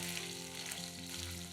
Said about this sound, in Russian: Обжариваем мясо на самом большом огне